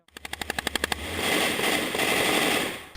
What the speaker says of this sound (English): The sound of gunshots pierced through the once silent nights of Ukraine's eastern city